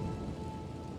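Steady rain falls in a Genshin Impact character teaser, a dense, even patter with a faint tone running through it.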